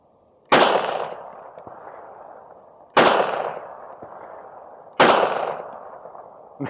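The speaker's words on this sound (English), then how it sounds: "And the last test, a Walther P1." Three loud, sharp gunshots from a Walther P1 pistol fired at a range, evenly spaced about two seconds apart, each with a short ringing decay, close and with no talk.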